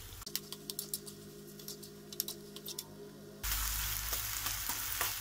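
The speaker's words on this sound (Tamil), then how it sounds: "இப்போ இதை நல்லா மிக்ஸ் பண்ணிக்கலாம்." Green chilli pickle mixture with chilli powder and turmeric sizzles in a pan while a spoon scrapes and stirs in quick, irregular taps, and the frying hiss swells suddenly louder partway through.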